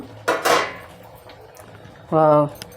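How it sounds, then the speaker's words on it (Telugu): Metal lid lifted off a pot of cooking fenugreek leaf dal in a home kitchen, giving a brief clatter of metal, a quiet gap, then a short ringing clink. "ఇప్పుడు మనం మూత తీసి చూద్దాము"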